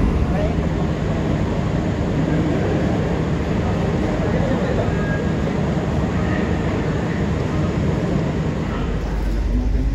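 KA Majapahit passenger train departing from platform 1 at Kertosono, a loud steady rolling rumble heard from inside, with faint voices in the background.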